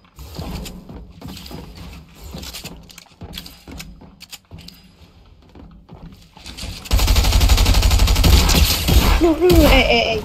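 Video game gunfire in a Batman versus Superman match: scattered shots and clicking mechanisms in the first half, then a loud sustained burst of rapid automatic fire.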